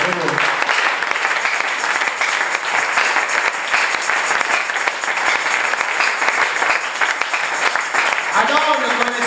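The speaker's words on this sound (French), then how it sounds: "On applaudit pour le Seigneur." A church congregation applauds during a French sermon, with steady, dense clapping from many hands that runs unbroken, fairly loud and close, and a voice that breaks in briefly at the end.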